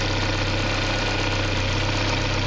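A car engine idles steadily throughout a Ford EEC-IV cylinder balance test, running as a loud, continuous, close mechanical drone with no pauses and no one talking.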